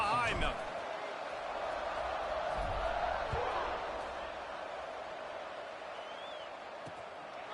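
Stadium crowd noise in a college football video game, California at kickoff, a steady broad roar with a few scattered thumps, holding fairly level throughout while a commentator talks over it.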